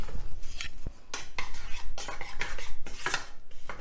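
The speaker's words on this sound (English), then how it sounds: "I'm just going to coat them so they don't stick to the pan." Spring onions stirred in a hot pan to coat them and keep them from sticking, with close, busy scraping and clattering of a utensil against the pan in quick repeated strokes.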